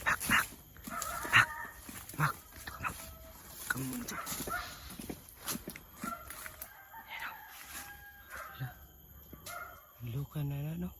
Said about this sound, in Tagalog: Tandaan naman kasi mayroong aso.